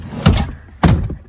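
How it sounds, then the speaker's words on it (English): A car door is shut, two solid close thuds about half a second apart, loud and short with nothing else around them. "So now let me close the door."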